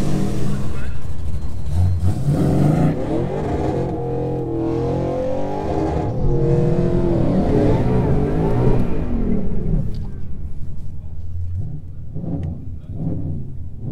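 A supercharged 2019 Mustang GT on a drag strip roars and revs hard, rising in pitch through gear changes, then fades as it pulls away, loud and close.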